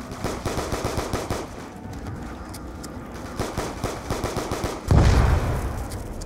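Rapid automatic gunfire in a zombies video game, a steady stream of close, punchy shots in quick rhythm, slowing briefly before resuming, with a heavier blast near the end.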